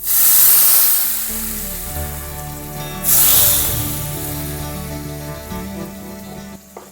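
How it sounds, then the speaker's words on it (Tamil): Hot oil, about a third of a cup, poured into homemade Schezwan sauce, giving a loud broad hiss and sizzle that flares twice, at the start and again near the middle, then settles into a steady crackle. "இந்த டைமில் சூடு எண்ணெய் 1/3 கப் ஊற்றுறேன்"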